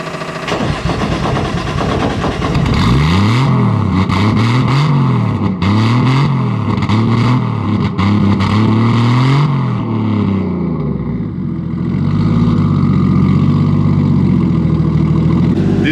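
A Nissan Skyline R34 drift car engine cranks and fires, then revs repeatedly in rising and falling bursts before settling into a rough, steady idle.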